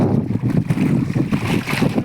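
Strong wind buffets the microphone at Kumatagi lake near Vijayapura, with waves lapping and splashing close by in an irregular, gusty roar.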